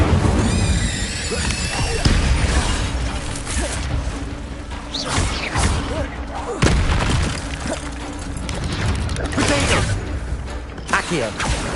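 Incendio fire spell cast in Hogwarts Legacy, bursts of whooshing flame and booming impacts amid busy combat sounds with squeals and crashes, loud and dense throughout.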